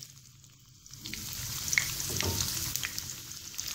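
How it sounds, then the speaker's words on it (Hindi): Onions going into hot oil for Hyderabadi chicken dum biryani, a steady sizzle that swells after the first second and holds, close and moderately loud, with no talk. "अब हम इसके अंदर प्याज ऐड कर देंगे"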